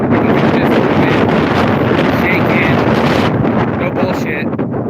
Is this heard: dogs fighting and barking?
no